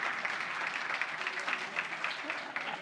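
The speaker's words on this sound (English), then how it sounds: "a big applause for the organizers for organizing this wonderful event" An audience at a DevOps conference talk claps for the organizers: a moderate, somewhat uneven patter of hands that swells and dips, heard from a distance.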